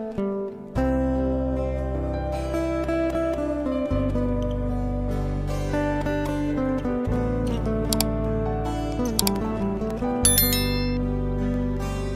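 A notification bell sound effect, bright chimes ringing repeatedly over a steady sustained musical tone, loud and continuous throughout with no talking.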